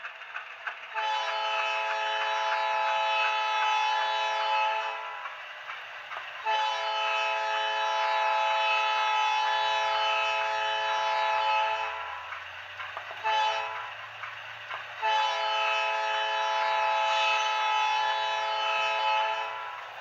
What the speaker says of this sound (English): It's a real nice sounding horn from ESU.